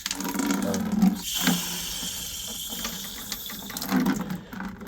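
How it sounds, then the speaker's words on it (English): Water hisses and splashes out of an Aquasana filter housing as pressure is released, a steady rushing flow lasting several seconds with a couple of brief gurgling surges. "I'm gonna let out some water here and pressure."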